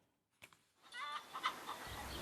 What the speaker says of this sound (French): Elles ont acheté des poules pondeuses.